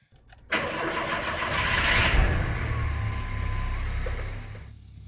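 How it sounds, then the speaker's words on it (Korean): An old second-generation Volkswagen Jetta engine cranks briefly and catches, then settles into a steady, rumbling idle close by, with no talking. "제가 드디어 시동을 한번 걸어보려고 합니다."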